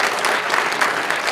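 An audience at a hackathon's final demos applauds, a dense, even wash of many hands clapping close by with no break.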